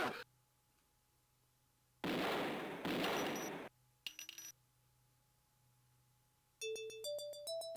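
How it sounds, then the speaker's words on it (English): Two loud bursts of gunfire from a video game, each a harsh broadband blast lasting about a second, followed by short clattering and rising electronic tones against a quiet hum. "So 2 gunshots ring out."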